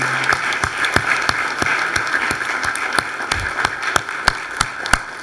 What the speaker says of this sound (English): Let's give them another round of applause for their fine performance